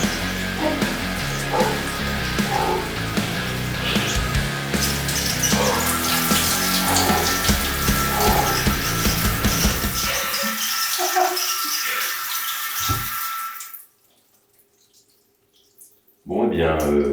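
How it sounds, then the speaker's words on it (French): A cold shower runs steadily as dense broadband water spray for about thirteen seconds, then cuts off into near silence before the noise briefly returns. "on est parti pour une petite douche bien froide"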